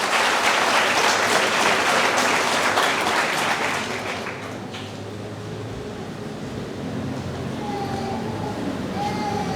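Applause from an audience at a student graduation ceremony, a dense, steady wash of clapping that fills the first four seconds, then thins to a quieter patter with faint room hum as it trails off.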